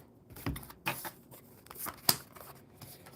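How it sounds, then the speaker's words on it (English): Tarot cards being shuffled by hand, giving a few quiet, crisp riffling bursts with short pauses between them. "One more good shuffle here."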